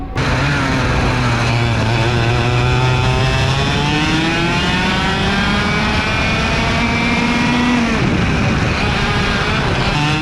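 A racing kart engine runs loud and close on the Orlando track, a continuous buzzing drone whose pitch rises and falls as the kart accelerates and lifts through corners.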